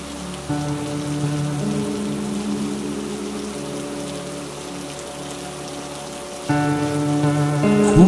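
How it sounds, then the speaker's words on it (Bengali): Heavy rain pours steadily and loudly on a surface, a dense, continuous hiss that grows even stronger toward the end, with no voices. "হঠাৎ করেই বৃষ্টি পড়তে শুরু করে।"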